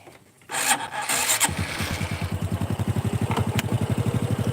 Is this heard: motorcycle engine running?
yes